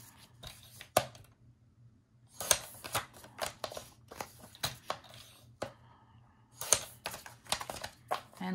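Scissors snip through craft paper along marked lines for a rustic Christmas project, giving sharp, close cuts in irregular bursts separated by brief pauses.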